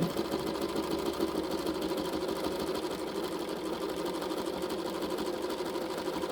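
A sewing machine stitching raw-edge applique pieces onto an art quilt runs steadily with a fast, even mechanical chatter, close and continuous with no talk.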